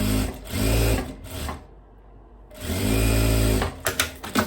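A sewing machine stitches a seam on a long dress with puffed sleeves, close and loud in two runs of whirring separated by a short quiet pause, then faint handling clicks.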